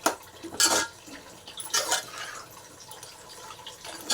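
Pieces of country chicken are mixed by hand in a bowl, giving a few wet squelches and soft clinks against the dish, close and quiet with no talk.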